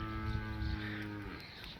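A crossbred dairy cow at a farm in Pakistan gives a single loud, drawn-out moo with a rich, deep tone that fades away near the end, heard close with no talking.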